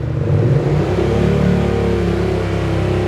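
A 2022 Yamaha MT-07 motorcycle fitted with a Scorpion full-system exhaust revs up and drops back quickly, a loud, close, throaty engine note alone for about three seconds.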